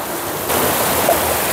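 Rushing stream water at peak flow inside Saklikent Canyon in Turkey, a dense steady roar that swells louder partway through, heard up close with no talking.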